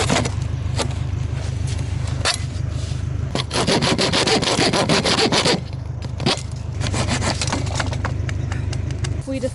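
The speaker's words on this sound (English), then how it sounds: "Cross sawing. This is a new technique." Handsaw cross-cutting tree roots in a gravel drainage trench, with rapid back-and-forth rasping strokes in bursts of varying length, close and fairly loud.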